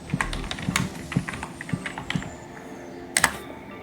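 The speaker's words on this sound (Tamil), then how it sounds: "நம்ம திருப்பி கூகுளில் ஃப்ரீ ஃபாண்ட்ஸ்ன்னு டைப் பண்ணி பார்க்கலாம்." Quick light tapping on a computer keyboard while a search is typed, a rapid uneven run of clicks close by with a brief louder burst near the end.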